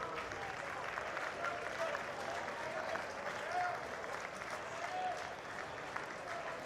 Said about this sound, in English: the Oregon State fans cheer absolutely everything